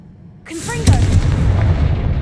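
A Confringo fire spell in Hogwarts Legacy goes off as a sharp blast that swells into a sustained rumbling burst, fairly loud and holding for over a second.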